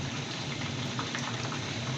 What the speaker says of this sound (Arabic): هذا هنا الماء عندي جاي يفور مالت التمن